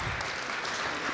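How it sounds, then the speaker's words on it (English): Steady audience applause at a live citizen assembly on youth rights, a dense even wash of many hands clapping at moderate distance with no talk over it. "A round of applause."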